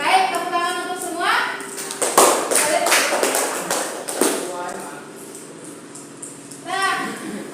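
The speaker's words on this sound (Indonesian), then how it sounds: "tepuk tangan untuk semua" Students in a classroom clap in response to a call from their teacher, with a burst of claps and taps mixed with children's voices and chatter, fading into quieter talk before a short final flurry.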